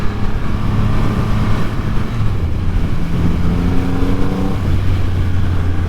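A 2024 Triumph Rocket 3 motorcycle accelerating hard on a roll-on, its deep engine note rising loud and close with a steady climbing drone and wind rush.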